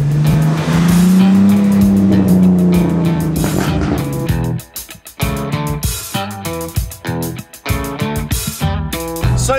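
A BMW Z4 with a 3-litre engine revs hard while driving, a loud rising then falling engine note followed by sharp gear changes and bursts of throttle, close and prominent with no talking.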